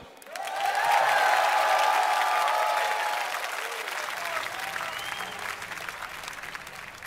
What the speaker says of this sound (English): Give it up for our incredibly talented Zerg, Leenock.